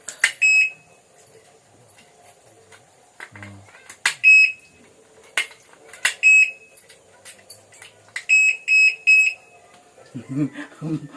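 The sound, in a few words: alarm lock going off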